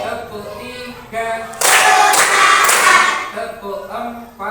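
Children in an Indonesian classroom clap a counted rhythm pattern on the teacher's cue, a burst of loud group clapping lasting a couple of seconds, with a teacher's voice speaking before and after.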